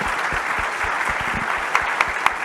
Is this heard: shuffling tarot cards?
no